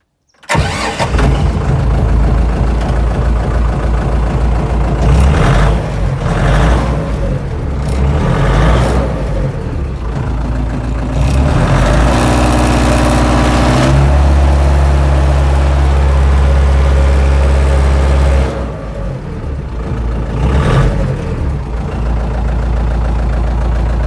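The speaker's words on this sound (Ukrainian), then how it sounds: "Звук дизеля." A Lovol 354 tractor's diesel engine cranks, catches and runs steadily with a loud, throbbing low rumble, revving up and settling back to idle, no voices.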